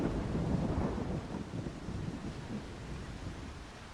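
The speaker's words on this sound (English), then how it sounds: "Yeah, it's good thunder." Thunder in the video game Solar Punk, a long, low rolling rumble with wind-like noise and a hint of rain that slowly fades over four seconds.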